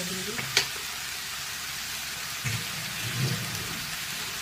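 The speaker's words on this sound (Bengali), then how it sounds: "জিরে আর এই বাটাটা দিয়ে ভালো করে কষাই।" Cumin, ginger and coriander paste being sautéed in a pan, a low continuous sizzle with occasional scrapes and clinks of stirring, one sharp knock near the start.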